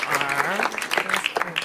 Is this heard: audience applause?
yes